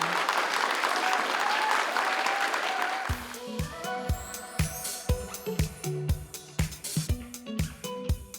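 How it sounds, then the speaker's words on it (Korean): An audience at a Korean small-business competition event claps for a company representative after a Q&A, a brief, moderate round of applause for about three seconds that gives way to music with rhythmic beats. "손짱 황인슬 대표에게 큰 박수 부탁드리겠습니다"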